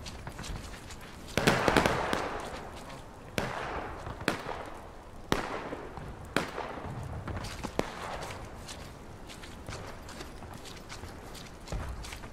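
Cannon fire from an artillery crew in the Civil War game War of Rights, a sharp crack followed by several more distant booms and scattered gunshots across a busy battlefield.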